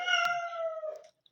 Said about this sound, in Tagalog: Nandito na yung pusa, maingay.